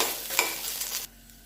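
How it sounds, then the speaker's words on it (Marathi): Garlic sautés in a pan with chillies and peanuts for a spicy curd thecha, making a close, steady sizzle with stirring scrapes that drops sharply to a quieter fry partway through. "यामध्ये लसूण टाकायचा. लसूण टाकल्यानंतर छान असं परतून घ्यायचं."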